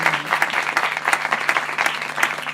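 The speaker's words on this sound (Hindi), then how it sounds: "ये भाई डिगन साहब खड़े हुए हैं, इनके लिए तालियां बजाएं।" A church congregation claps for a man standing during a gospel service, brisk steady applause with a low hum beneath, no talking.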